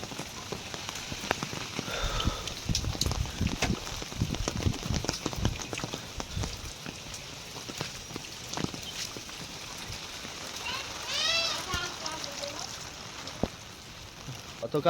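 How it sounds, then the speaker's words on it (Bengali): Rain falling outside, a continuous close patter with scattered heavier drops throughout and a brief voice in the background near the end. "বাইরে দেখছো বৃষ্টি শুরু"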